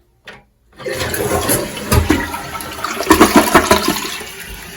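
A newly installed one-piece toilet flushes for the first time, a loud close rush of swirling water that builds and gurgles steadily after a brief click of the handle, with no talking.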